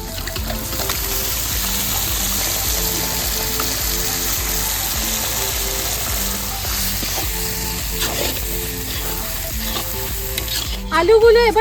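Chicken fries with turmeric, Kashmiri red chilli powder and tomato ketchup, giving a steady, close, crackling sizzle with repeated stirring scrapes, and a brief clatter near the end.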